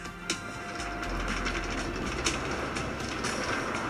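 A Far Rockaway bound A subway train rolls along with a constant rumbling roar, faint rhythmic clacks and rattles over the tracks.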